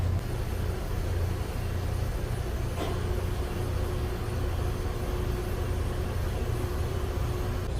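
Inboard engines on a Pursuit 345 Offshore or 365 Sport Coupe boat idle steadily inside a lift, a constant low rumble and hum with no talking.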